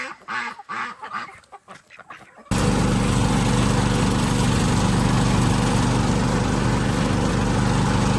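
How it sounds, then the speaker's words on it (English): Ducks quack on a rural homestead in a brief, close burst of rapid squawking calls, suddenly swamped by a loud, steady engine drone that runs on to the end. "That's a duck, dude."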